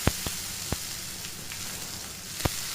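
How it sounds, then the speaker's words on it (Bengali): Chopped onions hit hot oil in a pan while a chicken curry is being made, giving a steady close sizzle with a few sharp crackling pops, and no talk. "এবার আমি তেলের মধ্যে কুচনো পেঁয়াজ দিয়ে দেবো।"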